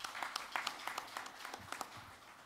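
Audience applause at an economics conference session on growth in Asia, a brief burst of scattered clapping from a seated crowd, fairly faint and steady for a couple of seconds.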